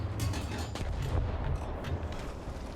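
Tank cannon fire and gunfire in War Thunder, involving a B1 Bis tank, with a dense run of rapid shots and thuds under continuous rumbling battle noise, loud and close, no voices.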